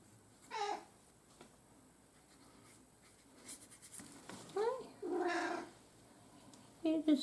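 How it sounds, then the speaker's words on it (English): A cat gives several short, quiet meows in a small room during mixed-media crafting, with soft scratching and rustling of materials between the calls. "You're just meowing away. Little meows."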